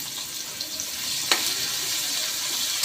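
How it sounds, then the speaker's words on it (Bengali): Dried hilsa fish frying in a pan until it turns reddish, giving a steady, close, hissing sizzle throughout with one brief sharp clink partway through. "এই যে শুটকিটা লাল লাল করে ভাইজে নিচ্ছি"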